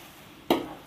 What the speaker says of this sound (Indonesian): Nah, ini kita aduk-aduk aja sebentar.